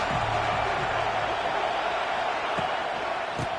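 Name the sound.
football stadium crowd cheering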